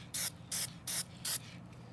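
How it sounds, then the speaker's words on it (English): Four short, loud bursts of aerosol spray from a can of crystal clear coating, applied over pen artwork in a steady, evenly spaced rhythm, with no talking. "this crystal clear coating that we can spray on"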